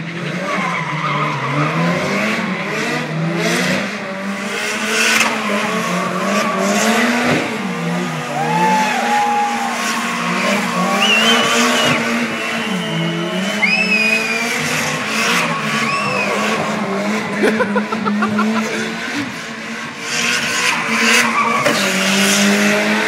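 Drift cars at a tuning show screech their tires in long, loud squeals over revving engines, the howl rising and falling continuously as the cars slide, with crowd and event noise in the background.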